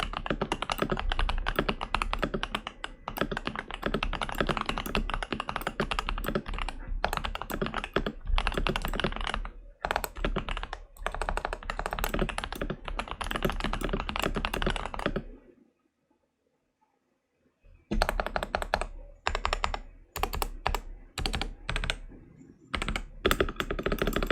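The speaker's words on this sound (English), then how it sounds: "And now let's do a quick stock sound test." Stock switches on a Tecware Phantom+ full-size 104-key keyboard clatter in rapid, continuous typing bursts, close and crisp, broken by a brief pause before the keystrokes resume.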